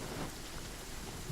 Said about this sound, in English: It's nice that it's raining